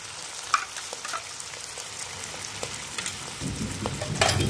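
Afghani paneer masala with fresh cream frying and being stirred in a pan, a steady soft sizzle with scattered scraping and spoon clinks, growing louder and busier toward the end, no voices.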